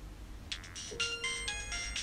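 A mobile phone rings with a tonal electronic ringtone, repeating bright melodic bursts at a steady rhythm, fairly clear over a faint background hiss.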